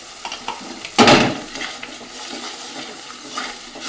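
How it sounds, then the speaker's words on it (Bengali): Ground turmeric, cumin, coriander and salt being sautéed and stirred in a pan, a few clattering scrapes followed by one loud splashing stir, then a quieter sizzle with light utensil taps. "এটা এবার একটু ভালো করে কষাতে হবে মশলা"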